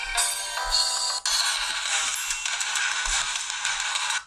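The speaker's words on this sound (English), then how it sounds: "So you'll have no shortage of tones there to pick for your notifications." Stock ringtones on a Bush Spira D1 Android smartphone play one after another as the list is scrolled, bright, dense melodic tones that run almost without pause and change once partway through, close and fairly loud.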